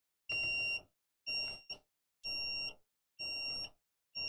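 A piezo beeper driven by a Raspberry Pi Pico sounds five shrill electronic beeps in a steady on-off rhythm, each about half a second long with silence between, fairly faint.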